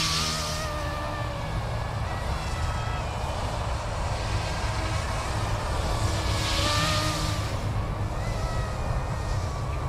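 A scale RC Black Hawk UH-60 helicopter flies outdoors in wind, its steady whining rotor and motor drone continuous and fairly close, with no talking.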